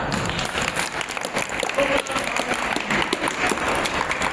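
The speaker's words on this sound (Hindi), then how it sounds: "आप ताली बजा करके इसका" Audience applause at a student honours ceremony in Jaipur, many hands clapping in a hall: a steady, moderately loud patter of claps with uneven individual hits, sustained across the whole stretch.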